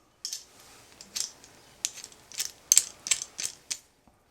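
A Henson AL-13 safety razor gives a run of sharp, close ratcheting clicks as it is cranked down. They come in quick bursts separated by short pauses, with a faint mechanical whir.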